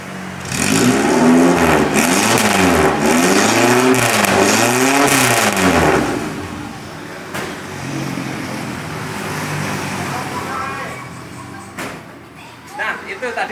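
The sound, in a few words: 1995 Suzuki Katana motorcycle revving with straight-pipe exhaust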